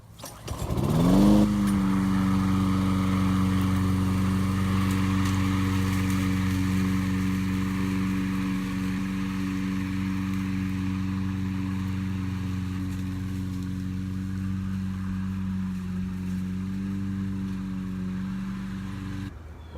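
A repaired, previously broken walk-behind lawnmower starts with a quick rev and then runs at a steady, loud engine drone while mowing the yard, holding an even pitch for about twenty seconds with no talking.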